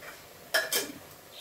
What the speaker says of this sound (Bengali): দিয়ে আমি এখন কিছুটা নাড়তে থাকবো, মিনিট 2-এর মতো নেড়ে।